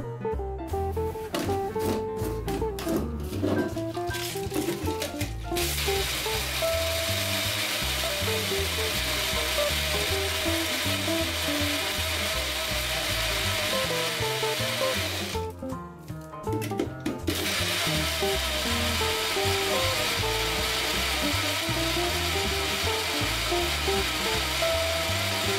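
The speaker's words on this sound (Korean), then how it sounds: "블렌더가 좋지 않은 관계로 크러쉬드 아이스를 넣고 함께 갈아줍니다." A weak blender crushing ice with pineapple juice and lemon juice for a sherry colada cocktail produces a loud, steady grinding whir that runs throughout, with rougher, choppier stretches at the start and midway.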